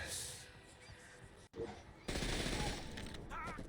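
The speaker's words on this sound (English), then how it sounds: "Pull out our SMGs because they are the fastest when shooting Paulie" Rapid SMG fire aimed at Paulie in The Darkness video game, a dense burst of shots at roughly two seconds that keeps going to the end after a short choppy start, with some game noise underneath.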